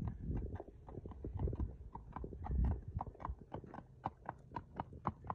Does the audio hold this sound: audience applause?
no